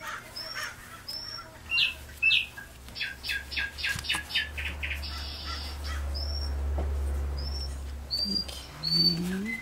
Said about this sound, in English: Sounds like mockingbirds. I love mockingbirds.